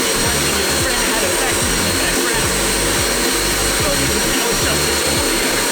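Neighbor's welding rig droning loudly and continuously, a harsh steady buzz with rough crackling texture and a regular low pulsing underneath, close and unbroken throughout.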